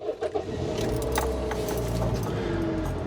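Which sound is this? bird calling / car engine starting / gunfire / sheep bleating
car engine starting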